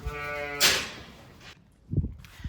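Lambs bleating in a farm yard, one loud wavering bleat up close followed by a burst of noise and, after a short gap, a fainter low bleat or call.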